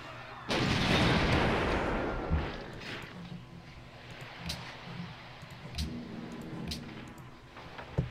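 Units firing in the video game Civilization V: a heavy artillery-like boom opens, then rolls away, followed by a scattering of smaller pops and thuds at moderate loudness.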